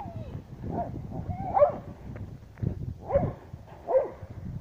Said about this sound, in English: He wants to chase the dogs.